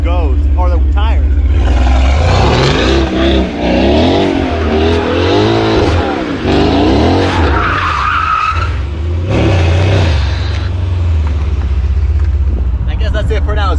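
A 2019 Mercedes C63 AMG, rebuilt after a wreck, spins donuts in the cold with its engine revving hard and tires skidding and squealing, loud and close, while people talk over it.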